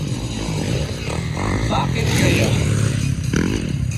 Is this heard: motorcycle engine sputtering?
yes